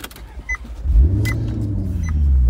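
A car's power window motor hums as the glass slides, a low, steady whir that builds after a few soft clicks and runs close by for a couple of seconds.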